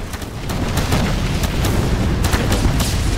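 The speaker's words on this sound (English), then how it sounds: "There's a lot of exploders there." Exploder enemies burst in a continuous rumbling wall of booms during a Hazard 6 Elite Deep Dive in Deep Rock Galactic, loud and dense with a few sharper pops on top.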